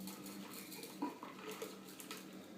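A brandy sour, without ice, is fine strained through a sieve and a Hawthorne strainer, with faint metallic clinks and taps of the strainer over a quiet steady background.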